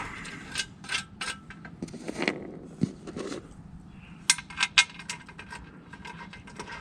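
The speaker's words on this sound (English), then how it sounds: "with the other hand just loosely start these bolts into the clip nuts" Metallic clicking and light ratcheting taps come from bolts being hand-started into clip nuts on a Touratech Expedition skid plate for a Yamaha Tenere 700. The sounds are irregular, close and fairly quiet, with a few sharper ticks near the end.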